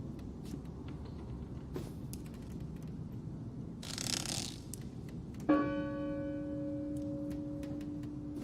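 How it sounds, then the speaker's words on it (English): A single heavy church bell strikes once in an empty village in the Draugen game, its clear tone ringing out and decaying slowly over several seconds amid faint mechanical clicks. "That bell. Stop it."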